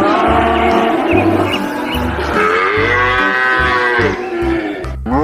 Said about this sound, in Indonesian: Di sini ada indukan sapi.